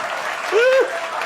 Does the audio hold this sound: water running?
no